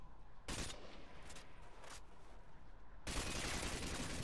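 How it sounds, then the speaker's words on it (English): AK-47 fire in a video game crackles in short bursts, a sharp volley at the start and a longer sustained stretch of shots at the end, with quieter game ambience between. "Who's he shooting at?"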